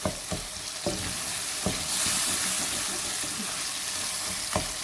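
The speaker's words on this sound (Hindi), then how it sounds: "तो ये मैं 2 मिनट तक इसको मज़ीद भूनती हूँ।" Tomatoes and masala sizzle steadily while frying in a pan for degi aloo gobhi, with periodic clinks and scrapes as a spoon stirs them; the cooking sounds are close and alone, with no talking.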